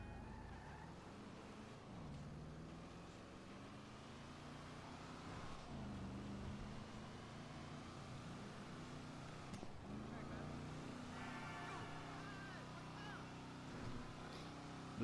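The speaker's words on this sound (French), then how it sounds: "je vais vous faire écouter le moteur" A Honda Chino moped engine runs steadily at close range, a continuous motor drone with a slight rise in pitch partway through and a faint background hiss.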